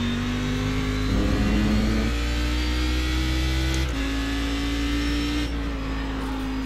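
Cadillac race car engine in the iRacing sim, accelerating gently out of a pit start at Canadian Tire, a steady close engine drone that shifts pitch a few times as it climbs, alone with no talk.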